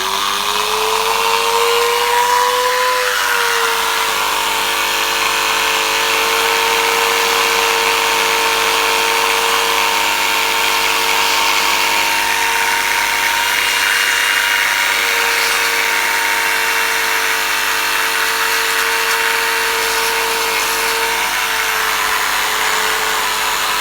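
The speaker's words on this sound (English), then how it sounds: "So I'm again going to switch heads on the Dremel, and then I'm going to sand that down." A Dremel rotary tool fitted with a small rounded sanding head grinds down a plastic locking disk from a Bugaboo Cameleon 3 stroller, a loud, steady high-pitched whine that runs continuously with slight pitch dips as the bit loads against the plastic.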